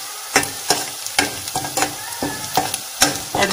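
Onions and curry leaves sauté in a pan for a chicken curry, sizzling loudly while a spoon scrapes and stirs in quick, regular strokes nearby, with no speech.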